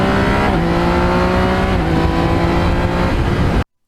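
A Yamaha MT-09 motorcycle engine drones loud and close at steady high revs while riding, shifting pitch once, then the sound cuts off abruptly.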